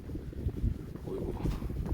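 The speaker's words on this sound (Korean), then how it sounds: "바람까지 좀 이렇게 세게 부네요" Strong wind on a cold day around minus one or two degrees Celsius buffets the microphone in a low, roaring rumble, gusting unevenly throughout.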